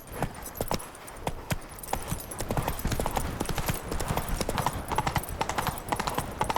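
Roach, the horse in The Witcher 3: Blood and Wine, trots steadily in a quick, even clip-clop of hooves, close and clear throughout.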